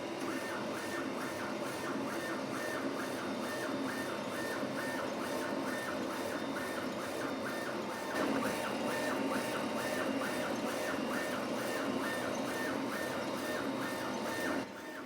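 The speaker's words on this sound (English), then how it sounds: "This is coming right off of the printer." An RF-ZZ2C UV printer runs steadily, its print head carriage whirring and its motors ticking in a regular repeating pattern, with continuous mechanical hum throughout.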